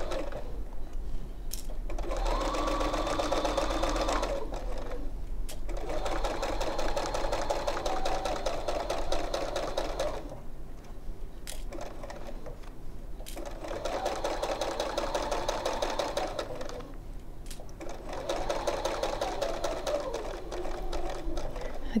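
Sewing machine stitching an embroidered make-up brush holder, running in several long, steady bursts separated by short pauses where the needle stops and the fabric is turned.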